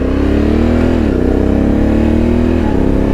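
A 2024 Honda Africa Twin 1100 Adventure Sports motorcycle, 102 hp, drones steadily under way, its loud engine note rising and dipping slightly as the rider holds speed, with no talk.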